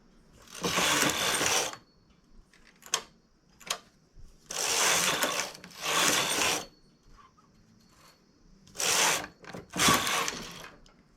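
A home knitting machine knits a shoulder piece of a garment, with repeated bursts of rasping carriage passes lasting about a second each, separated by quiet gaps and small clicks, close and clear.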